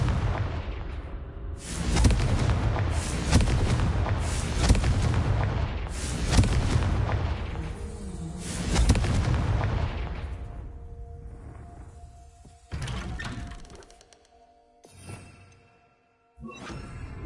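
The Confringo spell in Hogwarts Legacy sets off a run of heavy booming blasts, one after another, each rumbling and then fading, followed by a few sharper impacts and short gaps of near silence.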